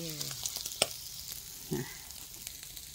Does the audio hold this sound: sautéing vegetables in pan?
yes